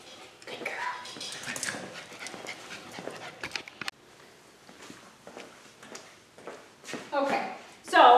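A Chihuahua pants and whimpers close by, with short whines and yips mixed with scuffling steps, while people talk over much of it.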